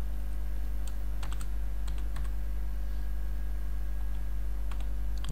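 A code is typed on a computer keyboard, with irregular bursts of light key clicks and taps over a steady low electrical hum.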